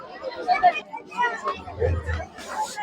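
Crowd chatter at a Datta Jayanti festival fair in Sanpada, Navi Mumbai: several nearby voices talk over one another in a continuous, moderately loud babble.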